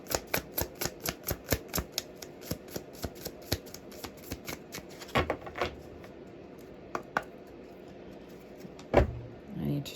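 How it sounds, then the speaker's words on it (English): A deck of tarot cards shuffled by hand up close, a quick run of rhythmic crisp riffling flicks, then a few sparser snaps and taps with a pause. "I need to shuffle some more."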